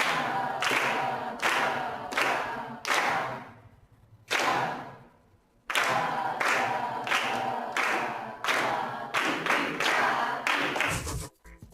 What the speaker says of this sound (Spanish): Ahora vas a acompañar las palmas con la voz.